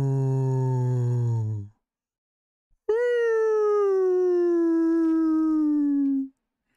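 A human voice imitates whale song with two long, loud, droning wails. The first stays low and steady, then a short gap, then a second call that starts higher and slowly slides downward before cutting off.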